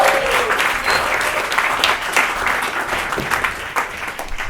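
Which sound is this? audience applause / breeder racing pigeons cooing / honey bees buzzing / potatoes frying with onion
audience applause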